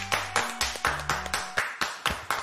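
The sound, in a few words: applause for Michel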